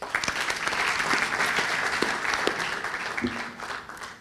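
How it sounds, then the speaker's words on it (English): Sustained applause from a summit audience, a dense steady wash of many hands clapping close by for about four seconds, easing slightly toward the end. "Let's have a round of applause for yourselves"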